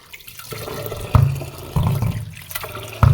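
Water splashes and pours while lentils are rinsed for dal, arriving in several separate gushing bursts with softer trickling between them, close by.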